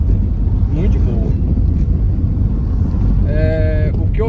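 Wind roars through a moving car with its windshield removed, a loud, steady low rumble and buffeting throughout, with a brief tonal whine near the end.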